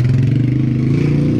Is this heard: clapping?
no